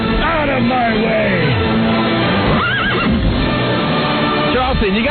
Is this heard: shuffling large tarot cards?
no